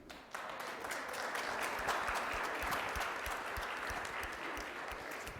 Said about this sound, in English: Could we give ourselves a round of applause for a moment?